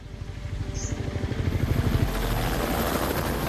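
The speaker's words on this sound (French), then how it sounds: "C'est un hélicoptère?" A helicopter's rapid rotor thumping grows louder as it draws near, a steady low chop filling the air with no voices.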